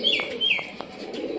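A pigeon coos close by, several short soft calls in quick succession mixed with faint chirps, over a quiet outdoor background.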